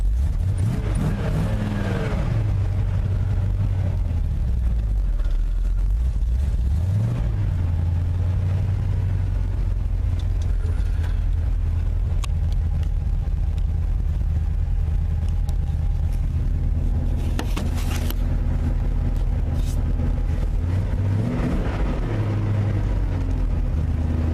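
A 1958 Chevy Napco 4x4 truck engine running with no power-steering belt fitted, a loud continuous idle with a few revs rising and falling, no talking.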